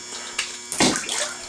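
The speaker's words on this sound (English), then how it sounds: "Seemed to have dropped my magazine into the water" A Glock handgun magazine drops into water with a sudden splash and brief sloshing, close and fairly loud, following a small knock.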